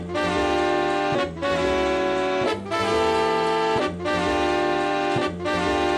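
A 1971 jazz recording, heard as a short sample of dense, sustained horn and band tones, with the phrase breaking briefly about every second and a quarter, steady and loud throughout.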